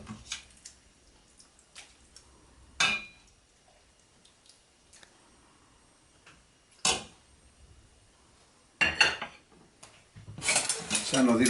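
Lentils and braised pork ribs are served from a pot into a dish, with a few sharp ladle and spoon clinks against cookware spread over quiet stretches, then a busier clatter of scraping and knocking near the end.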